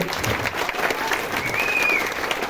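Crowd applause for a guest host and crew at the opening of a music workshop event, a dense continuous wash of clapping from many hands throughout, fairly loud and close.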